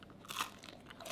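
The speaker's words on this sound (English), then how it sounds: "The crust, don't know if you could hear that, but it's got a good crunch on it." The crust of a Chicago deep dish pizza is bitten, giving a short, faint crisp crunch up close.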